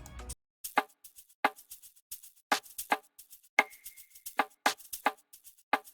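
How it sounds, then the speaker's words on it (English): Combined shaker and percussion loop from the same drum kit: a steady pattern of sharp clicky percussive hits with light shaker ticks between them and a brief held tone midway, no voices. "So it's basically a shaker loop and also a perk loop in one."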